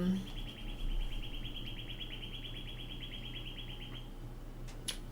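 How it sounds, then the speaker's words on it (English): A distant bird calls in a rapid series of repeated chirps over several seconds, faint against quiet outdoor background noise. "don't know what bird that one is."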